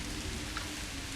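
Steady pouring rain in the game Welcome to Elderfield, a dense even hiss of falling water filling the short moment without any voices.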